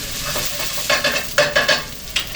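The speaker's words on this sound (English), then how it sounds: "all you're doing is browning it." Plant-based meat browns in an oiled pan with a steady close sizzle, broken by several quick scraping stirs; no voices.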